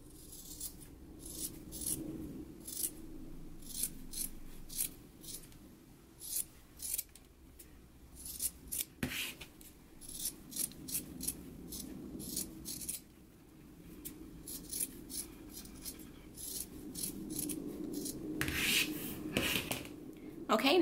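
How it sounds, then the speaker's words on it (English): Scissors trim the sewn fabric flaps of a Simplicity pattern 8889 garment with repeated snips and rustling fabric throughout, faint and close, with quiet handling sounds in between. "Once we have the flaps sewn, we can go ahead and trim them."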